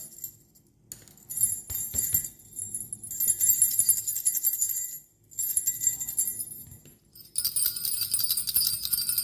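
Bright beads rattle and jingle in bursts as a handmade beaded baby rattle is shaken close by, with short pauses between shakes.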